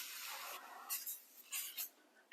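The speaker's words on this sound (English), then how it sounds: "Give that a spray." Short bursts from a cooking spray can coat a square baking dish in a home kitchen, a few quick soft hisses following a faint rubbing sound, heard close and alone.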